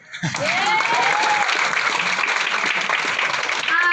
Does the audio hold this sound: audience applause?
yes